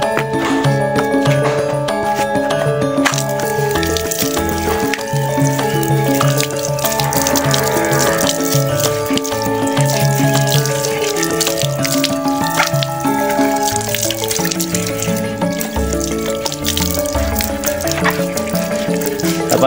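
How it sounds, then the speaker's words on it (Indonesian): Taro stems being rinsed under a running kitchen tap, with a steady stream of water splashing and trickling throughout, close and continuous, alongside some clattering and a faint voice. "Kita cuci di air mengalir."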